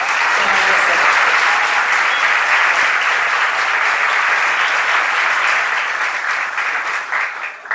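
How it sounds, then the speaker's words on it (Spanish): An audience at a gathering of advanced pharmacy students in Córdoba gives loud, close, continuous applause that stays strong for nearly eight seconds before easing slightly at the end. "Un aplauso, por favor."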